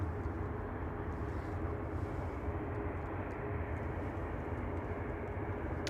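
Aircraft 9H-QAT taxiing at Manchester Airport, a steady distant jet rumble and whine held at an even level throughout, no voices.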